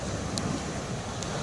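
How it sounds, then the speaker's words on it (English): Ocean waves at sea level wash as a steady broadband roar, mixed with wind buffeting the microphone, continuous and fairly loud without any voices. "You can hear the waves in the background."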